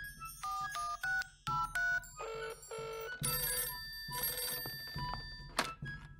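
Cartoon telephone ringing: a series of bright, repeated electronic ring bursts, then denser ringing tones, close and clear with no talking.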